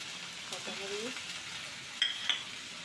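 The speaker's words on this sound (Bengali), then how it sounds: "কড়াইতে পেঁয়াজগুলো ভেজে নিতে হবে একটু ব্রাউন কালার চলে আসলে" Onions frying in a kadai give a steady, soft sizzle close by, broken by a couple of brief sharp clinks of stirring; a voice murmurs faintly in the background.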